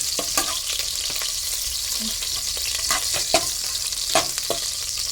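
Garlic frying in a pan alongside fried pork, a steady broad sizzle with scattered clicks and scrapes of stirring, close and continuous with no talking.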